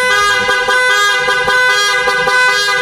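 A loud musical horn module fitted to a Yamaha NMAX 155 motorcycle blares close by, a harsh, buzzy, tonal blast pulsing in a quick regular rhythm of short repeated notes with no pauses.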